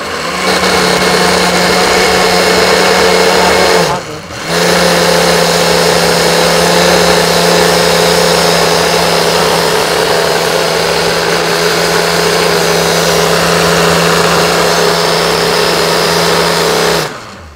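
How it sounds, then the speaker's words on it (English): Blender whirring through sea moss gel, a loud continuous motor drone with one brief stop near four seconds before running on steadily to the end, no voices. "Make sure you scoop the gel and put the gel in a blender."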